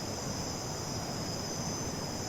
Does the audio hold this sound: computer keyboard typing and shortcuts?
no